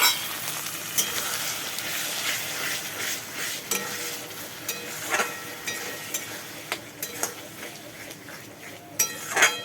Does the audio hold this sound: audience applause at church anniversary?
no